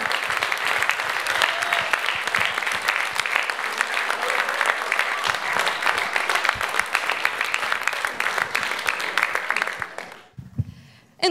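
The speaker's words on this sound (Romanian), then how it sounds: "Aplauze pentru Ghenadie Coceban!" Concert audience at a musical show with a brass band gives loud, sustained applause for a performer, dense clapping that fills the room before cutting off abruptly near the end.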